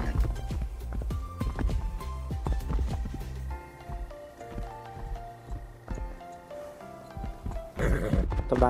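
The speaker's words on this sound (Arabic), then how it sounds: "الحصان مشان اروضه" Horse hooves clopping with an occasional neigh in the Project Evo survival video game, a steady run of close hoofbeats over game music, rising to a louder burst near the end.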